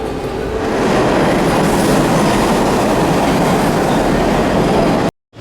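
A New York City subway train rolls toward Coney Island, a loud, close, continuous roar of wheels and rattling cars lasting several seconds before cutting off abruptly.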